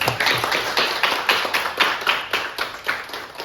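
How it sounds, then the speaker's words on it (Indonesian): A small group claps in a classroom, about a dozen quick, fairly close claps in a loose rhythm for a few seconds. "Sekali lagi kita berikan aplaus."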